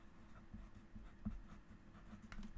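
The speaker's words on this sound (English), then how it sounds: "you might hear some pencil ASMR." Pencil scratching across an index card in short, soft, irregular strokes, faint and close, with a low background hum.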